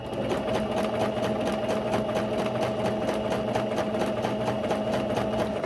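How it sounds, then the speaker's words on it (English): A sewing machine runs steadily, stitching a long length of tulle for a tutu skirt, its close, even mechanical whir and rapid needle chatter continuing without pause and without any talk. "I'm gonna go ahead and sew this 10 yards of tulle"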